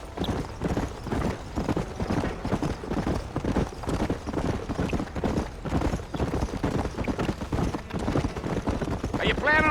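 Hoofbeats of a galloping horse in the Western video game Red Dead Redemption, a steady rapid clip-clop rhythm running throughout, with characters talking over it.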